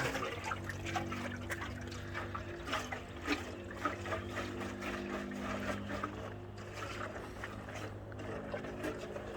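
Liquid sloshes and swirls inside a Honda motorcycle part as it is rotated, a continuous soft watery trickling over a low steady hum, moderately faint and without talk.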